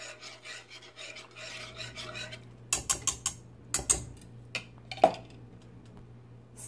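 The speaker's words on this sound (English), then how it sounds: "this is Rolo chocolate mix, 25 grams, I think, yeah, 25 grams. Let's mix it up." Rolo chocolate mix is stirred in a cup for a peppermint mocha latte: soft raspy scraping and rubbing of a spoon, then a run of distinct clinks and taps against the cup, quiet and close.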